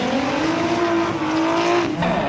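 A car drifting in the Gran Turismo racing video game, its engine holding a loud steady high drone with tire noise as it slides sideways, the pitch dipping briefly near the end.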